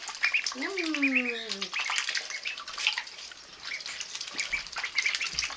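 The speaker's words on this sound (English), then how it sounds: "They all start squawking and running around where they hear me pouring the water into the bin" Ducks squawk and quack noisily at a backyard duck pond while water is poured into a bin, a loud descending call at first followed by scattered chatter and splashy noise, with a person speaking briefly.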